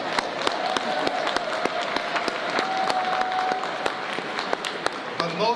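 An audience at a disability services day event applauds steadily and continuously, a dense wash of clapping with a few sharper individual claps standing out, and a voice comes in near the end.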